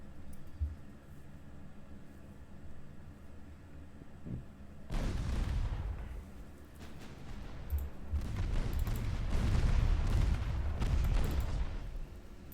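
Naval gunfire in Ultimate Admiral Dreadnoughts, with battleship and secondary guns firing: after a quiet stretch, a sudden burst of heavy booming shots and rumbling blasts, loud and sustained with overlapping impacts.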